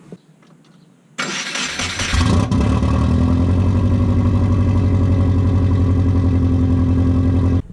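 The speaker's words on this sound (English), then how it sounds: "I'll start it up and see how it sounds." A car engine cranks and catches, then settles into a loud, steady idle with a deep rumble that continues without pause.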